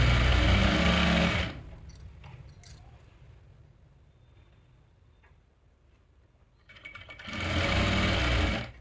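Sewing machine stitching a dhoti salwar, loud and close as it rattles steadily at the start, drops away to quiet handling for several seconds, then runs hard again at the end. No talking.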